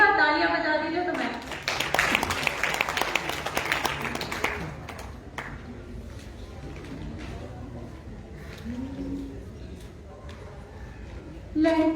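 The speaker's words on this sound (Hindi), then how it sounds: "एक बार तालियां बजा दीजिए" An audience at a women poets' gathering gives a burst of clapping that swells then thins into scattered claps over crowd murmur and a voice at the microphone.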